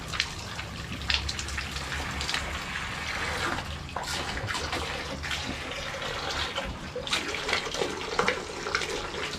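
Water pours steadily into a container for several seconds, a continuous splashing gush with small fluctuations and no talking.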